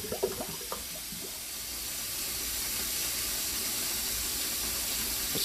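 Water drains from a large, full kitchen sink that had been running slowly, a steady rushing hiss and gurgle that builds after a few small clatters and holds on evenly.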